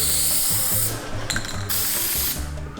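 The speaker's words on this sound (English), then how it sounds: "Web spray is good for hoodies though, and sweaters." Two bursts of aerosol spider web spray, a steady hiss lasting about a second each with a brief mechanical click between them, close by.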